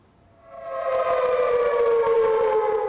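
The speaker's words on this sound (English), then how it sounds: "Protesters on Thursday sounded a siren call from across the river" A siren, sounded by protesters across a river from the COP26 climate summit, rises steadily from quiet into a loud, sustained wail and holds, with nothing else heard.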